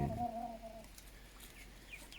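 A rooster and two hens of about five months old on a home poultry setup give a few faint clucks and short calls, with a clearer tonal note at the start and fainter chirps later over a low background hum.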